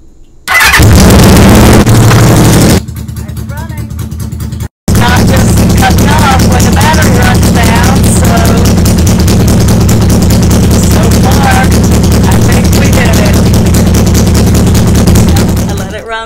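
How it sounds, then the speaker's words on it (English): A Honda CB350F motorcycle engine cranking and firing up, a loud burst of starter and ignition noise, a brief cutout, then a steady close idle running evenly with a dense rapid exhaust pulse and a voice briefly heard. "Let's crank it up and see if it runs."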